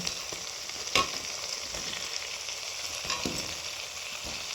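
Potato and cauliflower pieces are added to a spice paste frying in oil for a rohu fish curry, giving a steady sizzle with a few sharp clacks and stirring scrapes.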